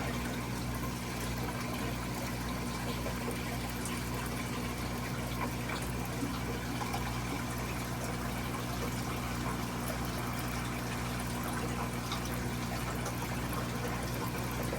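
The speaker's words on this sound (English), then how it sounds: "I do want to release a lot of this water first" Water drains steadily from an aquarium holding baby plecos, a continuous low rushing and trickling under a constant pump-like hum, fairly quiet and unbroken throughout.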